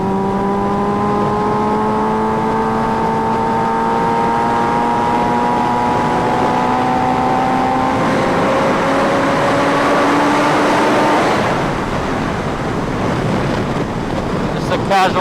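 A Kawasaki Ninja H2R supercharged motorcycle pulls hard in sixth gear, its engine note rising steadily in pitch under loud, constant wind rush before fading into a washed-out roar.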